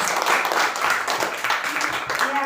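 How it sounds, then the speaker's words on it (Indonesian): A classroom of students applauds group 1, steady clapping from many hands lasting throughout, fairly close and continuous. "Tepuk tangan buat kelompok 1."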